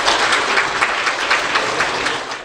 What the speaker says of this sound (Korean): 이충근 박사님 나오실 때 뜨거운 박수로 환영 부탁드립니다.